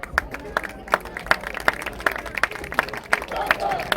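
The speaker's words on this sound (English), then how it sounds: "Let's have a round of applause for these two great companies." Crowd applause at an August 2020 Richmond Jets vs Brunswick Railroaders football game, scattered claps and a murmuring audience heard from a distance at moderate volume, building slightly toward the end.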